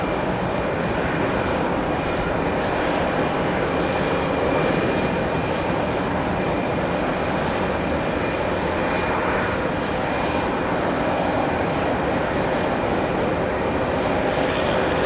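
An Aer Lingus Airbus A321neo jet taking off from JFK, a sustained loud engine roar holding steady throughout, with no voices.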